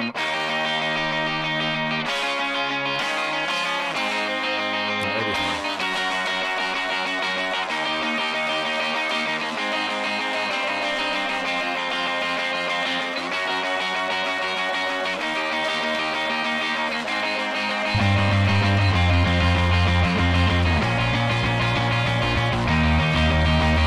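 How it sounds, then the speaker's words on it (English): A dense full-band rock section with distorted guitar joining in, a driving triplet bass line and tambourine, loud and continuous, with a heavier low end surging in near the end. "you'll hear how the guitar picks up and adds to it"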